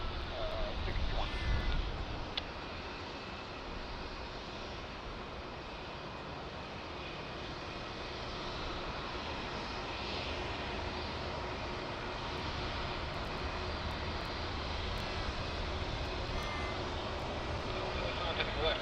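A distant airliner at Sydney Airport, a faint, steady engine rumble and broad hiss carrying evenly through the whole stretch with no clear rise or fade.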